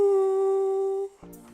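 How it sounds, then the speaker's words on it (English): A vocal sample, formant-shifted deeper in FL Studio without changing the notes, sings one steady sustained tone that fades before a short, brighter phrase begins. "It's just making my voice sound deeper without changing the notes."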